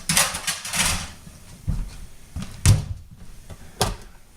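A smart rescued stray cat nudges a door partly open at night, giving a few scattered soft knocks and a brief rattling thump, with quiet gaps between the bumps.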